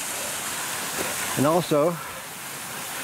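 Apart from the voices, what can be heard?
creek water flowing at a trail crossing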